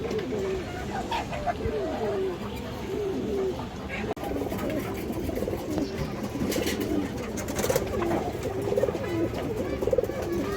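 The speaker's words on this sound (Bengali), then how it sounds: "বড় সাইজের একটা ইন্ডিয়ান হাই ফ্লায়ার কালদম মাদি কবুতর আছে" Large Indian high flyer kaldam pigeons coo repeatedly in close, rolling calls amid a steady background of other birds, with a voice faintly present.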